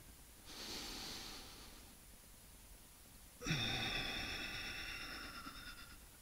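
A person breathes deeply while holding a standing yoga pose, a soft slow inhale followed by a longer, louder exhale, close and quiet.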